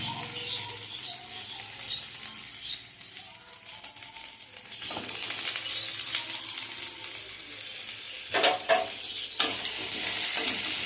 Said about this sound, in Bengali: আমি এবার এটাকে নেড়ে চেড়ে ভালো করে ভেজে নিচ্ছি